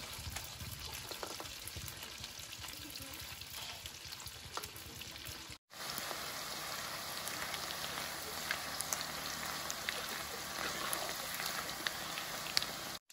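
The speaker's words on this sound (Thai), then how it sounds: "ได้มาแล้วก็ก่อเตาตั้งกระทะทอดนะยายปลาหนวดฤาษีแดดเดียวครับ" Sun-dried fish fries in a pan over an outdoor stove, a continuous soft crackling sizzle with scattered pops, steady and close with no talking, briefly cut off partway through.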